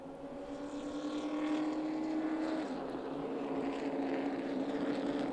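Race cars roar at Myrtle Beach Speedway during the Icebreaker event, a steady distant engine drone with a shifting pitch as the pack runs between turns three and four, heard alone without speech.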